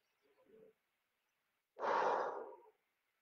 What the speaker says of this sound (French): on va bailler tous ensemble maintenant.